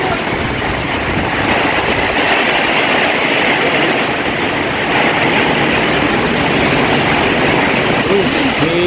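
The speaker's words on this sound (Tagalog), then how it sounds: "Lakas ang hangin at ulan." Strong typhoon wind roars continuously with heavy rain pouring down, a dense steady wash of noise throughout.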